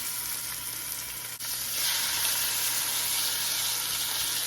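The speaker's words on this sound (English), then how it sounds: "Start adding my shrimp to cook." Shrimp dropped into a hot pan with chopped garlic set off a steady sizzle that swells louder after a brief bump, a continuous close frying hiss with no talking.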